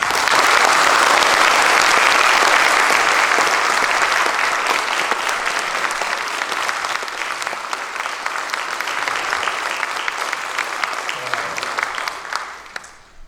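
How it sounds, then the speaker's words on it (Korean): Sustained applause from a church congregation at a Hosanna evangelism rally as the pastor comes forward, dense and steady, gradually thinning and fading out near the end. "우리 목사님 나오실 때 우리와 같은 박수 한번 주세요."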